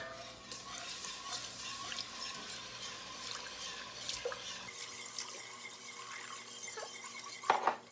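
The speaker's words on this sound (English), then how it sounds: "we are going to slowly add in 3 cups of milk" Three cups of milk poured slowly into a roux for mac and cheese while a whisk stirs it in a pan, soft continuous swishing and faint sizzling with a brief clink of metal near the end.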